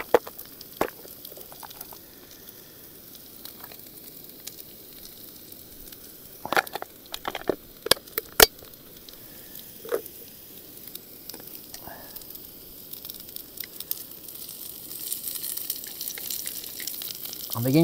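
Beans and broccoli frying in a small pan on a camping stove at a lakeside wild camp give off a soft, steady sizzle, broken by sharp clinks and scrapes of stirring, and grow louder toward the end.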